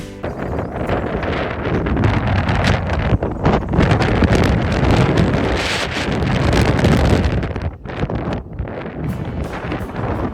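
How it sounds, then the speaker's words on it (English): Strong wind during severe weather in Texas roars and gusts loudly and continuously against the microphone, with rustling underneath and a brief lull near the end, and no voices. "The wind was so strong when we arrived that we decided not to park our camper in the huge parking lot"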